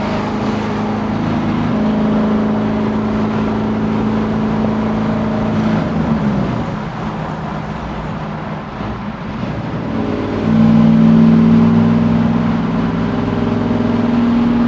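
A 1968 Camaro SS restomod with a 650 hp supercharged LT4 V8, six-speed gearbox and 3.73 rear gear accelerates hard, a loud continuous engine drone that dips briefly midway and then surges back stronger, with no talking.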